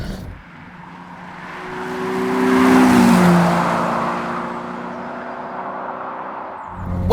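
The V12 engine of a 1990 Jaguar XJS HE with a manual gearbox runs smoothly and rather coarsely. It swells in a rising rev to a loud peak midway, then eases back to a steady drone, with no talking.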